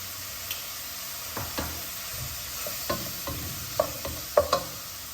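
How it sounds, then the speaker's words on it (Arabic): Chicken breast pieces frying in a pan with spices and ginger, stirred with a utensil: a steady low sizzle under a series of soft scrapes and knocks that grow sharper and closer together toward the end. "غنحركو مزيان"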